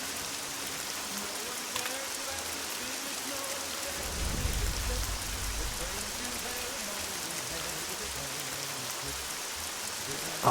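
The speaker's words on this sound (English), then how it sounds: "can you tell God to shut the rain off?" Heavy rain pours down loudly and steadily, a dense continuous hiss of drops hitting surfaces with a low rumble swelling briefly midway.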